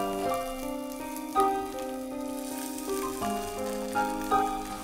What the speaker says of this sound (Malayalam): എണ്ണ ചൂടായതിന് ശേഷം ഇനി ഇതിലേക്ക് നമ്മൾ എടുത്ത് വെച്ചിരിക്കുന്ന 2 കപ്പ് ഉള്ളി ഇട്ട് വഴറ്റാം.